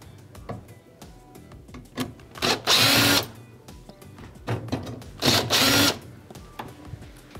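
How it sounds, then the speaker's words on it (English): A power driver backs Phillips screws out of a Whirlpool oven control panel in two short, close buzzing bursts a few seconds apart, with quieter handling clatter between them. "So we're gonna go ahead and remove the 2 right screws first."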